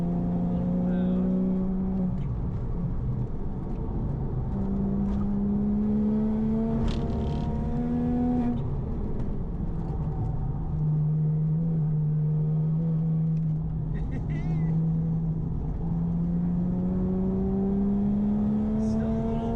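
A built Porsche Cayman S engine droning loudly while driving on track, its pitch rising and falling through gear changes, steady and close throughout.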